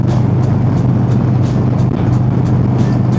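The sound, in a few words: motorcycle engine running while riding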